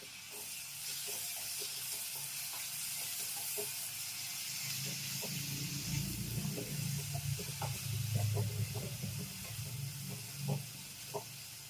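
Onions with a pinch of sugar frying in a pan for a Bengali duck-egg kasundi curry, giving a steady close sizzle and hiss with soft stirring scrapes and clinks through the middle and later part, no talking.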